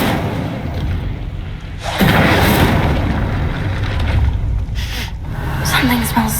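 Incendio fire spell cast in Hogwarts Legacy, a loud whooshing burst of flame that swells and rumbles for several seconds, with game sounds around it.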